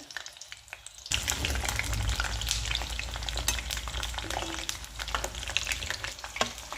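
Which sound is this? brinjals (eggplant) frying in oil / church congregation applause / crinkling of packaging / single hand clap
brinjals (eggplant) frying in oil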